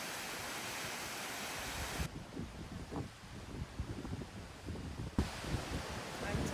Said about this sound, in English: Oh wow, look at this waterfall.